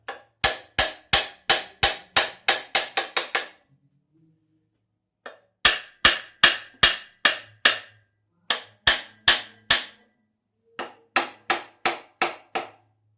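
A brass drift taps tight locating dowels into the bed plate of a 4.7 V8 Power Tech Magnum engine: three bursts of sharp, ringing metallic strikes, close and loud, in quick rhythmic runs separated by short pauses, with no talk.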